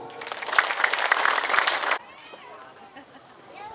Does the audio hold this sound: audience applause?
yes